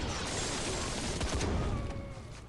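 Rapid burst of gunfire from Howard the Duck in the Marvel Contest of Champions mobile fighting game, a dense, loud rattle of shots over busy game effects.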